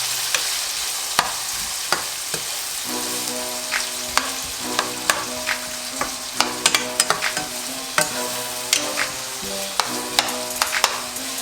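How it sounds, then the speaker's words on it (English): Spinach tossed and sautéed in a hot pan, steady sizzling broken by repeated sharp clicks and knocks of a utensil against the pan, close up with no voices. "So I already added the spinach. And I'm gonna toss this around."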